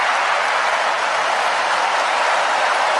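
Steady, dense applause from a studio audience at a talk show, a continuous wash of clapping held at an even level for a few seconds with no voices over it.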